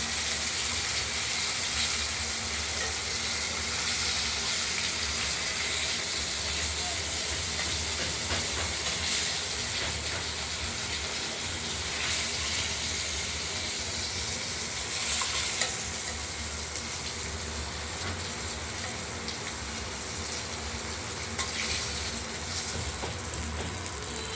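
Katla fish pieces sizzle steadily in hot oil in a pan, a continuous loud hiss and crackle with occasional stirring scrapes throughout.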